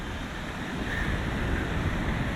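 Ocean waves break on the ocean-side beach of Rangiroa in French Polynesia, a steady roar of surf with wind noise buffeting the microphone, loud and continuous throughout.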